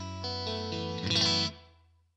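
Clean electric guitar run through a Neural DSP Nano Cortex effects unit: a few sustained chords with shimmering chorus-like modulation, ringing out and fading away at the end, with no voices.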